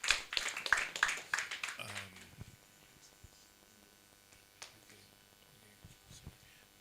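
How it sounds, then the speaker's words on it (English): An audience at a University of London meet and greet claps in a dense burst of applause that quickly tapers off within about two seconds, leaving a quiet room with a faint hum and scattered small noises. "Please, let's give yourselves a round of applause."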